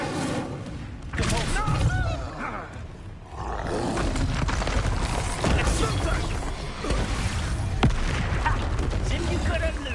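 Incendio fire spells unleashed in Hogwarts Legacy, a dense roaring blast of fiery booms and rumbling effects that runs continuously, mixed with game voices and combat noise.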